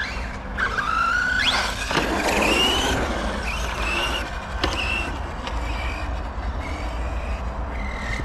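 A radio-controlled offroad car on a pumptrack at half throttle, its electric motor whining in rising and falling pitches, with tire scrapes and squeals over continuous outdoor rumble.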